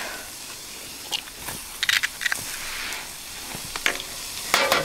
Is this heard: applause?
no